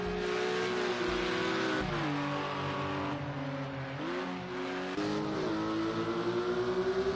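Race car engine in a racing video game, a loud steady in-car drone with rising and falling pitch as the engine revs through gear changes and corners, continuous throughout.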